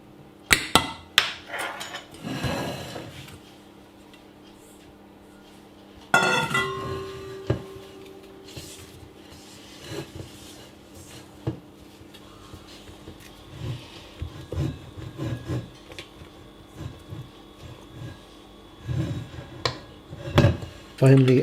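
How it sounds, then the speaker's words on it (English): Simnel cake ingredients are mixed together in a bowl: intermittent clinks, scrapes and knocks of utensil against bowl, close by, with a busy stretch near the start and scattered sharper taps later. "Mix these together in a bowl and then fold them into the mix."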